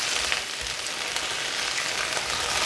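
Sliced potatoes and sausage fry in a pan with a steady, close sizzle and crackle that holds evenly throughout, with no voices.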